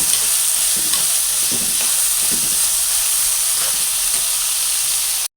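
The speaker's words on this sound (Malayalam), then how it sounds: "എന്നിട്ട് നന്നായിട്ട് ഇളക്കി കൊടുക്കാം ഇത് ചെറുതായിട്ടൊന്ന് വഴന്നാൽ മതി" Onion and green chillies sauté in a pan for fish-head curry, a steady close hiss of frying with soft intermittent scraping of a spoon stirring throughout, no voices.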